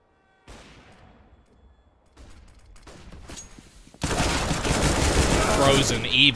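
Counter-Strike match on the map Train with pistol and AWP fire: a few sharp shots separated by gaps, then a dense, loud burst of rapid gunfire near the end.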